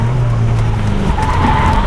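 A 1977 MG B Roadster driven hard, its engine loud and close with tires squealing and skidding steadily through a corner, no speech over it.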